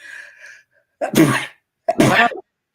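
Two sharp sneezes about a second apart, close and loud, after a short stretch of quiet talking.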